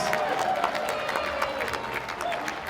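Live festival audience applauding Streetlight Cadence with a steady, dense wash of clapping and crowd noise that holds at an even level throughout, with some voices mixed in.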